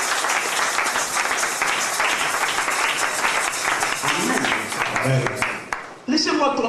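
A congregation applauding in church during a Pentecost service: dense, crackling clapping for several seconds, then fading as a voice takes over near the end.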